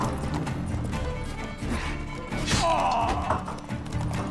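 Horse hoofbeats and a neigh sound amid combat noise with mounted enemies in The Witcher 3, over a dense layer of game music and effects, with a brief whinny near the middle.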